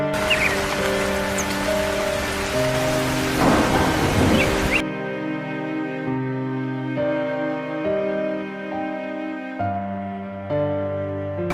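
Cartoon rainstorm in a village, a loud steady hiss of heavy rain with a rumble of thunder, then the storm noise cuts off and sustained musical tones continue to the end.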